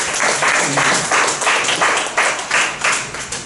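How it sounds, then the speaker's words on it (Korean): A church youth worship service breaks into applause for the worship team: a dense crowd claps in a few rolling waves that swell and ease without stopping, close and loud, with no speech over it. "찬양팀에게 응원의 박수 한번 쳐주세요."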